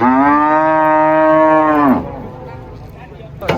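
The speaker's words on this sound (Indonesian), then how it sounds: "Sapi hitam." A large black cow lets out one long, loud, low moo close by, which breaks off after about two seconds, followed by quieter background noise.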